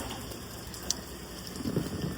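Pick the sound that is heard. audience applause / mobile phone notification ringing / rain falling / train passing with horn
rain falling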